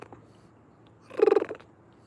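A large raccoon near the San Francisco Marina gives a short, nervous chatter, a quick burst of rapid pulsed sounds at close range over quiet outdoor background.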